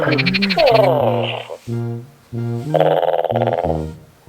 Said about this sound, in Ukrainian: Бачиш, як вони квакають. Як у них щоки надуваються, коли вони квакають.